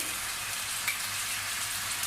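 Steady, even sizzle of beef frying in a hot pan, a continuous crackling hiss with no talking.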